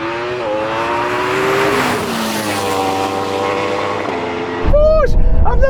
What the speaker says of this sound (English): look at that Porsche go!